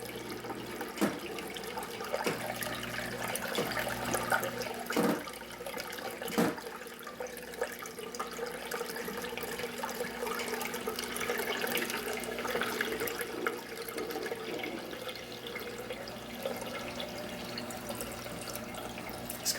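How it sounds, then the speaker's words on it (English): A return pump wired to a float switch shuts off and water drains away. Running, trickling water gurgles close by, with a few sharp splashy spikes early on, then settles into a continuous wash. No one speaks. "That's the pump shutting off. It'll completely shut down here in a second."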